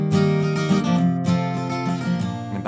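A I, IV, V chord progression played as sustained, ringing major-key chords that change every second or so, clear and alone with no voices.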